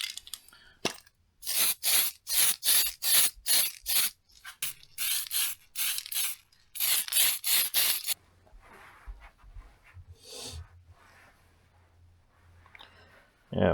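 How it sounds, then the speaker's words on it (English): Tamiya primer sprayed from a rattle can onto a small Orlandoo Hunter RC car body, heard as a rapid run of short, loud hissing bursts, a pause, then another cluster of bursts before quieter handling noises. "I'm gonna paint this body super quick and dirty with the Tamiya primer"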